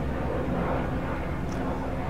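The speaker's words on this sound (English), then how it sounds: "The helicopter going over top" A helicopter drones overhead as a dense, steady roar that fills the whole moment without letting up.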